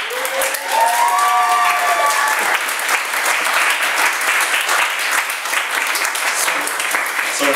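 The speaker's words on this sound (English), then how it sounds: "huge round of applause for our fabulous hosts tonight." A concert crowd bursts into loud, sustained applause for the evening's hosts at a 2014 show, dense clapping filling the room from start to finish, with a brief voice rising over it at the beginning.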